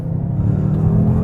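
Car launching hard from a standstill in manual mode, its engine revving with a loud, steady low rumble that builds slightly over about a second, with no talk over it.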